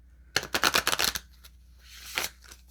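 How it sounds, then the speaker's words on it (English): A deck of tarot cards is riffled and shuffled close by in a quick rattling burst of snapping cards, followed by a softer, shorter shuffle on its own. "I was told that the card shuffling is too loud"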